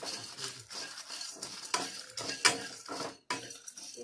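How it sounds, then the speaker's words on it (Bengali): Whole cumin, fennel and coriander seeds frying in a kadai and stirred, with quick scraping spatula strokes and metallic clinks over a light sizzle, close up, with no talk. "এই সব মশলা একসঙ্গে ভেজে নেব।"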